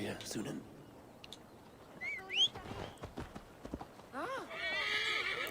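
Hooves clip-clop at a steady gallop while a horse whinnies twice, a shrill neigh in the middle and another near the end, with game-like ambience underneath, in Assassin's Creed Valhalla.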